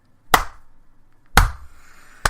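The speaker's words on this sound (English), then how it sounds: "Slow clap." Three slow, deliberate hand claps, sharp and close, spaced about a second apart with quiet gaps between them.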